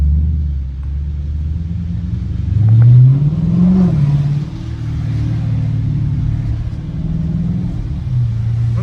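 A Dodge Charger R/T with muffler and resonator deleted rumbles deeply, its exhaust rising in a couple of throaty revs before settling back to a loud, steady idle growl up close.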